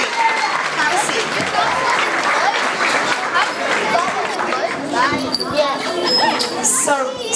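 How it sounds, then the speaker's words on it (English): Audience clapping at a first-grade elementary school award ceremony, a dense, continuous patter of many hands mixed with children's chatter and voices throughout. "Let's give them a big round of applause."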